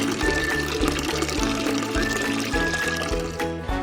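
A little water is poured into thuthuvalai rasam in a pot, a soft continuous splashing trickle over steady, rhythmic background music.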